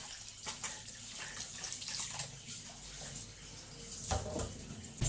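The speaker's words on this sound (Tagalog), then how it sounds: "So ato ni siyang hugasan." Bolinao fish being rinsed in a basin of water, with steady sloshing and splashing close up, a few sharper splashes and a clatter near the end.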